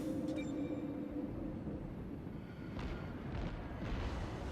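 Naval guns fire in a warship battle video game, heard as low rumbling booms with a couple of fainter distant blasts toward the end over steady background noise.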